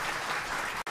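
Audience applause at a concert by a Polish sentimental orchestra, a short dense burst of clapping that cuts off abruptly near the end.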